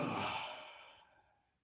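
A single soft yawn during a guided movement exercise, a breathy exhale that starts fuller and fades away within under two seconds, quiet and close.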